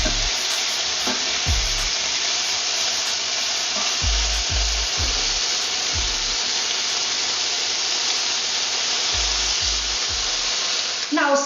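Lamb pieces brown in a pan with a loud, steady hiss of sizzling fat, broken by repeated low thuds and scrapes as the meat is turned, close and continuous without voices.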